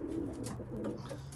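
Racing pigeon cocks coo in a loft, soft low rolling coos repeating close by in a quiet space.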